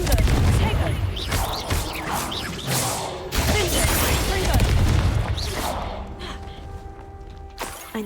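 A Confringo fire spell is cast in Hogwarts Legacy, producing crashing blasts and whooshing impacts within a busy game mix, a loud burst early that fades into softer rumbling, with a voice briefly speaking.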